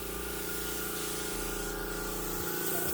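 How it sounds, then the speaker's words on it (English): A paint spray gun laying down metal flake paint gives a loud, continuous, close hiss with a steady mechanical hum beneath, unbroken and without talk. "So let's go ahead and start spraying."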